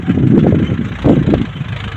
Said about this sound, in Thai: รถไถฟอร์ดนะครับ รถไถฟอร์ด